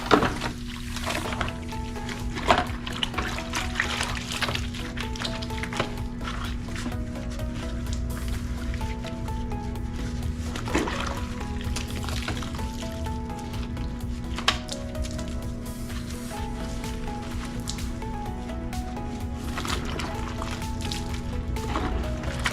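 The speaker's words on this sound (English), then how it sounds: "I just put some dishwashing liquid in this water so I could wash these parts off" Car bumper insert parts are washed by hand in a tub of water with dishwashing liquid, giving soft sloshing, splashing and dripping sounds close by, with a steady hum underneath and occasional louder knocks.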